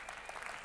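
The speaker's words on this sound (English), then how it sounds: "Round of applause for Laura, please." A conference audience in Liverpool claps for a speaker returning to the stage, a short, thick burst of applause under a second long.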